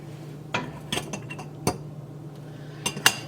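Metal utensils clink against glass canning jars and a pan while taco filling is packed down, a few sharp close clinks and scrapes spaced irregularly over a steady low hum, no talking.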